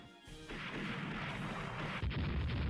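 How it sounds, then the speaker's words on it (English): Heavy naval shell hits from 8-inch guns in the Rule The Waves naval warfare game, a dense roar of booming impacts with a sharp new blast near the end, loud and with no talk. "8-inch gun just hit"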